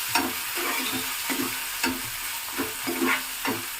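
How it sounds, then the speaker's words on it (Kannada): Chopped onion sizzles and fries in a pan for a potato and chickpea stir-fry, with a steady crackle broken by repeated scraping stirs of a spatula, close and fairly loud, no talking. "ಈರುಳ್ಳಿ ಇಷ್ಟು ಫ್ರೈ ಆದರೆ ಸಾಕು."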